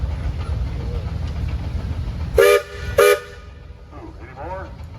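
Two short, loud blasts from a steam traction engine's whistle ring out at a Mason, Michigan threshing show parade, with someone talking before and after the toots.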